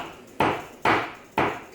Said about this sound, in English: So I'm just going to line this up here and I'm just going to give it a little tap.